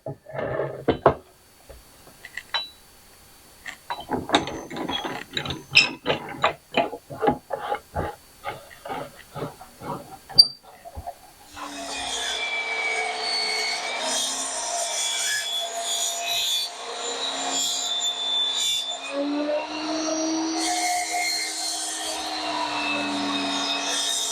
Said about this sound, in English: always cut the ends off first because there's going to be a little tear out, so we'll do that next